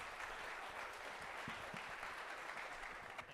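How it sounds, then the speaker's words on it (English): A quiet round of applause from an audience after a talk at a tech meetup, continuous distant clapping at low level throughout. "Everyone, big round of applause."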